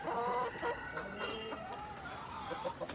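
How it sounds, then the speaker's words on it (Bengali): Pakistani breed chickens cluck and murmur in a rooftop coop, a quiet mix of short calls and warbling notes with some shuffling in the background. "পাকিস্তানি মুরগি,"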